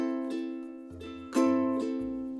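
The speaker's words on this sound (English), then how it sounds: "let's just do a slow strum." Slow ukulele strumming, three or four unhurried strums ringing out clearly, each chord sustaining and decaying before the next, close and fairly soft with no voice.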